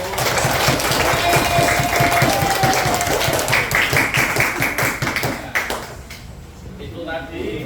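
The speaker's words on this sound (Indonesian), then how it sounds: "Tepuk tangan kelompok 1." A class applauds a student group in a teaching session, fast scattered clapping close by that thins toward the end, with a few voices and a brief tone mixed in as it fades.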